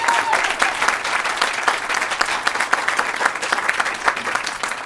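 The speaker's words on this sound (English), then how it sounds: "give her a round of applause." Crowd applause at a supportive housing event in Louisville, a lively round of clapping with distinct individual claps popping through a dense, even wash, steady for about five seconds.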